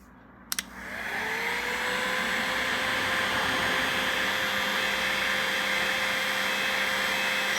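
Heat gun blasting air at heat-shrink solder splices, a click and then a quick spin-up into a loud, steady close roar with a high whine riding on it, no voices.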